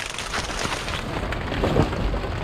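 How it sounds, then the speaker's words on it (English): Heavy rain pours down steadily in a broad, loud wash, with a low rumble swelling briefly near the end; no talking over it. "Rain, baby. Rain."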